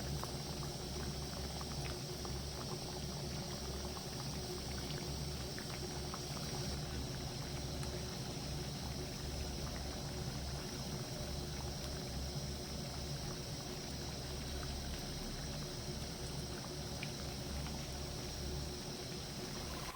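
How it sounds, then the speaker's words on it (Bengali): Cauliflower cutlets being turned in hot oil over medium-high heat, giving a steady, dense sizzle and bubbling that runs evenly throughout with no break. "কাটলেটগুলো উল্টে পাল্টে একটু লালচে করে ভেজে নেব"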